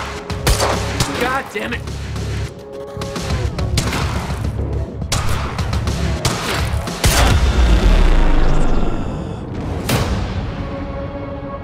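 Gunfire in the video game Quantum Break, loud bursts of rapid shots and booming impacts with crashes and debris, sustained throughout while someone shouts over the chaos.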